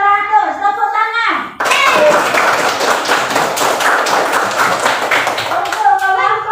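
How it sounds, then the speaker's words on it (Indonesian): Applause in a classroom as a group is praised: a dense burst of hand clapping from several people lasting a few seconds, with someone speaking just before and after it. "Tepuk tangan."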